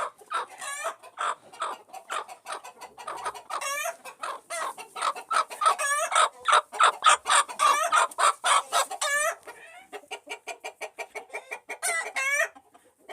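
An Aseel hen clucks repeatedly and rapidly at close range while sitting on eggs, with rising bursts and a few louder squawks scattered through the stretch, no talking.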